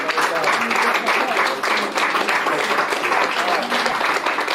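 Applause from an audience at a talk event, continuous clapping from many hands with a voice speaking over it.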